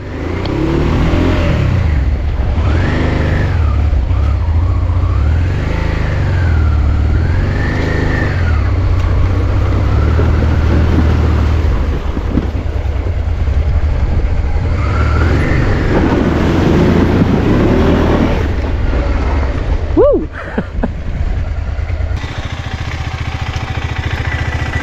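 A car pulls away in first gear on a road in Iceland's desert interior, its engine rising and falling through several gear-like sweeps over a steady loud rumble, continuous and close, with no talk.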